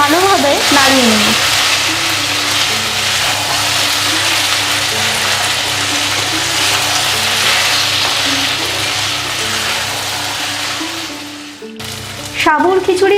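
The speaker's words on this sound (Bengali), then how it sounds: "দিয়ে এবার খুব ভালোভাবে নাড়িয়ে নেব।" Sabudana khichdi, with sugar and chopped coriander just added, is stirred steadily in a hot pan. The soft continuous sizzle and scraping run the whole time under background music, then drop out briefly near the end.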